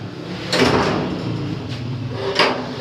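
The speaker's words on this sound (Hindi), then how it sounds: "तो दरवाज़ा खुल गया है" A door swings open at a home where a motorcycle is about to be brought inside, giving a few faint scraping and rattling knocks over steady background noise, with no speech.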